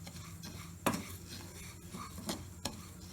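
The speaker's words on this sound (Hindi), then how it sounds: "राई दाल डालने के बाद हम इसको थोड़ा और भूनेंगे" Mustard seeds and lentils being roasted with spices in a pan for mango pickle, heard as soft stirring and scraping with a few clinks of a spoon against the pan, close and fairly quiet with a faint sizzle.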